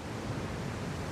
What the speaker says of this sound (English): The sun is shining and the waves are crashing.